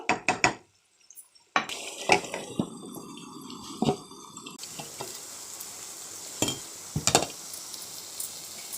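Potol (pointed gourd) and prawn curry being stir-fried in a pan, with a steady sizzle, scraping stirs and clinks of the utensil against the pan, bursts of louder frying broken by brief quieter pauses.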